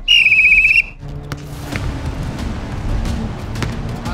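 A sharp referee whistle starts a point in an outdoor one-on-one soccer tennis game, a loud trilling blast under a second long, followed by ambient crowd noise and scattered thumps.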